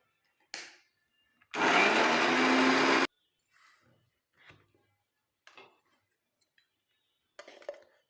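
A mixer grinder whirs loudly for about a second and a half grinding a herbal paste, bracketed by scattered clinks and knocks of a jar and lid.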